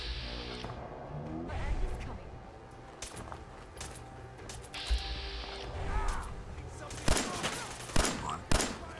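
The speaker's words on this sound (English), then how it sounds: "Who is shooting me now?" Gunfire in a modded Fallout 4 session comes in scattered shots and short bursts, with a few louder sharp reports near the end, mixed with other game sounds.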